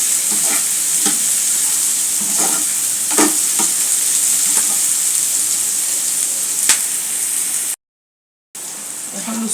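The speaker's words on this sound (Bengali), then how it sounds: "তারপরে আমি দিয়ে নেবো কাঁচামরিচ।" Onions, garlic and green chillies fry in a hot pan, giving a loud, continuous sizzle with intermittent scraping stir strokes. The sound cuts out briefly near the end and then resumes.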